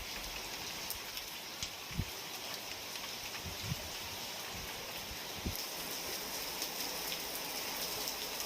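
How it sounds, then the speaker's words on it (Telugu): Heavy rain falling in Hyderabad during a thunderstorm, a dense steady hiss of drops on surfaces with a few sharp louder splashes and knocks scattered through, continuous and even throughout. "పలు చోట్ల ఉరుములు మెరుపులతో కూడిన వర్షం పడింది"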